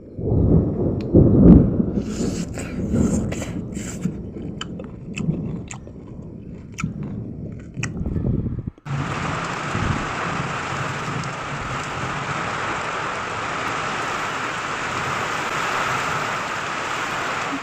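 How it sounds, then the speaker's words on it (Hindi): Heavy rain pours down steadily in a loud, close hiss. Chewing and eating sounds come first, then the rain takes over for the second half, with a few rumbles mixed in and no talking. "अब खाना खाने के टाइम में इतना तेज़ बारिश हो रही थी हमारे यहाँ पे"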